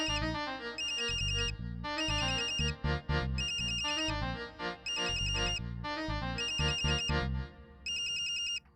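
A melodic phone ringtone plays loudly and repeatedly in rhythmic bursts of chiming notes, with no talking.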